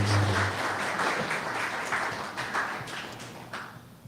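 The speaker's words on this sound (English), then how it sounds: "Let's give Dave a round of applause." Audience applause after a talk at a tech developer event, a dense burst of clapping that starts full and gradually tapers off over a few seconds.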